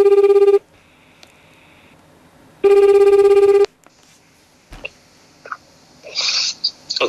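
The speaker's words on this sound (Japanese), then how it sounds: "電話してみましょうか。" A telephone ringback tone sounds twice while a call is being placed, each long ring loud and alone against quiet, followed by faint clicks and a brief voice as the line connects.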